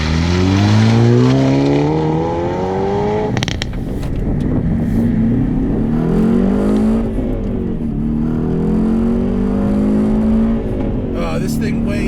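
A 2019 Hyundai Veloster N in loud exhaust mode revs and accelerates through the gears, engine tone climbing and dropping in repeated sweeps, loud and close from inside the car, with a sharp exhaust crackle between shifts.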